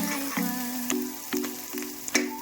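Onions fry in a pan toward golden brown for mutton biryani, a close steady sizzle broken by several scraping stir strokes.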